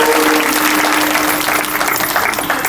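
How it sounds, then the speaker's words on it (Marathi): Loud, steady clapping from a devotional kirtan audience, a dense unbroken wash of applause lasting the whole moment with no voices on top. "टाळी वाजवा जोरदार."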